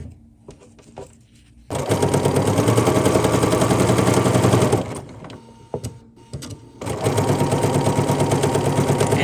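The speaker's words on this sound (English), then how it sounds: "I'm just going to stitch" A sewing machine stitches fabric, including bias edges, on an embroidered Winnie the Pooh baby quilt: two long, steady bursts of rapid stitching separated by a brief pause, close and clear.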